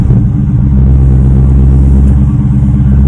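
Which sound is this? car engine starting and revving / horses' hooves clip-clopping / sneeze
car engine starting and revving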